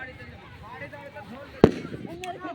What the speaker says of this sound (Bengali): চলো মোহিনী আর আমি 10 টাকা দামের বম হাতে ফাটানো